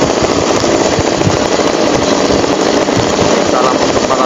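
A 135 cc motorcycle is revved hard at full throttle, giving a loud, continuous, rasping, crackling engine roar close by for the whole stretch.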